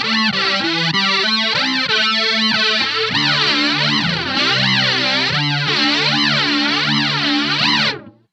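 Electric guitar through a Digitech Grunge reissue pedal with fuzz engaged: loud, saturated distorted chords with swirling, sweeping harmonics, played continuously for about eight seconds before cutting off abruptly.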